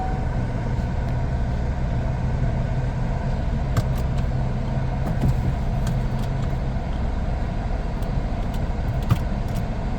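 A 2024 Chevrolet Trax idles steadily after its electronic parking brake is released, a constant low engine hum with a few faint clicks on top and no speech.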